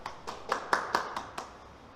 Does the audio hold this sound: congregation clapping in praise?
yes